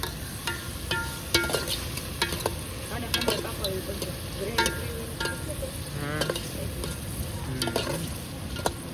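Chopped onion frying in a pan, a steady close sizzle with repeated metallic clinks and scrapes of a spoon stirring throughout, no talking.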